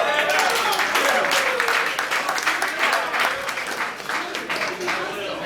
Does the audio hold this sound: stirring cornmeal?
no